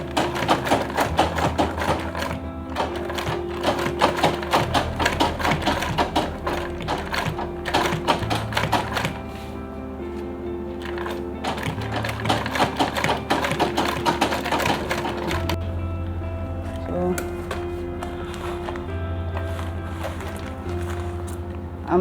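A sewing machine stitches lunch bag material in rapid rattling bursts, stopping and restarting several times, with the motor pitch shifting between runs.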